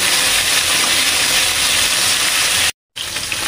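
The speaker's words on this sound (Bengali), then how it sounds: "মাছগুলি লাল লাল করে ভাজা হয়ে গেছে 2 পিঠই" Bhola fish frying in hot oil, a steady loud sizzle and hiss that runs unbroken before cutting out briefly near the end and returning.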